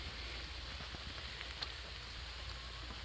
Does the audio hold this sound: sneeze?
no